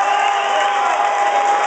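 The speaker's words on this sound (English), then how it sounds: "Give her a nice round of applause." A party crowd at a Friday-night DJ event claps and cheers in a brief, loud, continuous burst, with whoops mixed into the dense applause and a steady tone running underneath.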